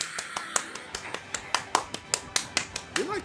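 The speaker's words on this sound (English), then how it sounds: "Let's take a moment to applaud our performers." Applause for performers in Paper Mario: The Origami King comes as a rhythmic series of sharp claps, about four per second, close and fairly loud, with a brief voice near the end.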